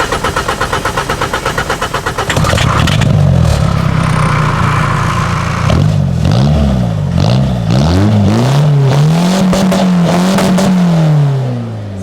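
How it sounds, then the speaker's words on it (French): 1996 Peugeot 205 HDI diesel cranking and catching, then settling to a loud close idle before several sharp throttle blips and a long rising rev that drops back to idle. "si tu peux la démarrer, mettre 2 petits coups de gaz."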